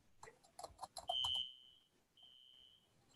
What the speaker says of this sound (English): Am I hearing a fire alarm?